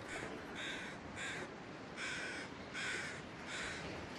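Crows in a video game caw in a steady series of about six loud, harsh calls, evenly spaced over a constant low ambient hiss, with no talk.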